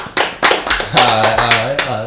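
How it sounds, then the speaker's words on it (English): A few people around a table clap together in a loose, uneven rhythm, sharp close claps with voices talking over and between them. "let's get a little clap going on, little clap"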